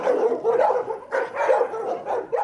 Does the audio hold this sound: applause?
no